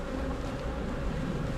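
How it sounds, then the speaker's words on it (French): Honeybees at an open hive during a spring inspection; a dense, steady buzz from many bees close by, continuous and fairly loud, with no voices. "je vous laisse observer le comportement des abeilles"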